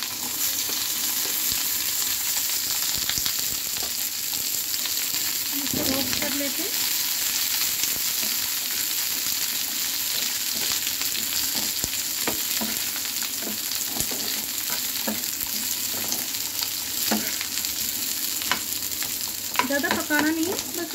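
Garlic, onion, green chili and coconut fry in hot oil with a steady, loud sizzle, broken by occasional clinks and scrapes of stirring.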